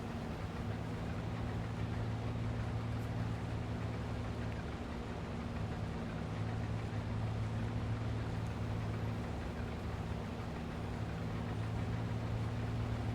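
A tractor engine in Farming Simulator 22, driving itself under GPS autosteer: a steady low drone that hums evenly and continuously throughout, moderate in level, with no talking.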